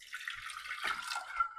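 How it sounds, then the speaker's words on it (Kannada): Water is poured into a pressure cooker holding bamboo shoots for curry. It makes a short, soft splashing gush that lasts under two seconds, with a faint clunk near the start. "ಕುಕ್ಕರ್ಗೆ ಇದನ್ನು ಹಾಕಿ ಸ್ವಲ್ಪ ಇದು ಮುಳುಗೋವಷ್ಟಷ್ಟೇ ನೀರು ಹಾಕ್ತೀನಿ"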